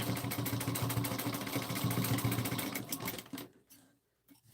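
A sewing machine runs in steady close bursts as it stitches a small fabric trinket pouch, reversing to back stitch, then stops, leaving near silence before a faint sound at the end.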